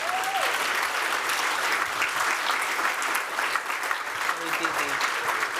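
An audience applauds conference panelists with sustained, dense clapping that fills the room evenly throughout, loud and continuous.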